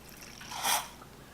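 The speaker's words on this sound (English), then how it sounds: "slowly pull back the plunger all the way to fill with water" A plunger slowly pulled back to draw water up from a cup gives a single soft, breathy slurp that swells and fades within a fraction of a second, quiet and close.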